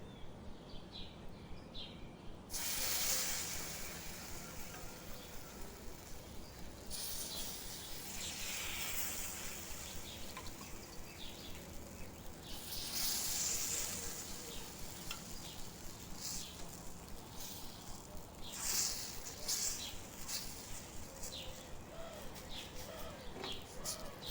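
Tomato dosa batter sizzles on an oiled tawa in a village kitchen, a steady broadband frying hiss running throughout with a few louder swells, birds cooing faintly in the background.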